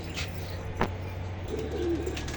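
Tournament pigeons cooing softly in a loft, a low murmuring coo over a steady background hum with one brief knock, fairly close and without talk.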